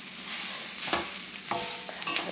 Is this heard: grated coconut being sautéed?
yes